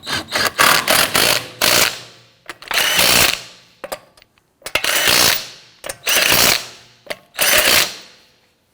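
A power impact tool fires in repeated short, loud bursts with ratcheting rattles, pausing between each, as lug nuts are snugged onto a 2017-2020 Hyundai Elantra wheel.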